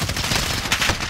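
Dense video game gunfire crackles nonstop for about a second, a loud rapid fusillade of overlapping shots with no voices.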